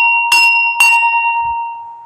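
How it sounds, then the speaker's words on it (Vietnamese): A ritual bell in a Vietnamese Buddhist-style ceremony is struck three times in quick succession, each bright, clear strike ringing on into a long, fading hum. "ta quánh ba tiếng chuông"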